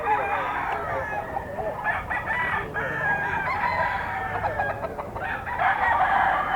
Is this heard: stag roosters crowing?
yes